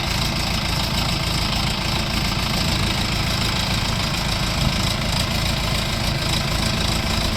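A small Orion RF404 tractor engine idles with a steady, close, rumbling chug that carries on without a break.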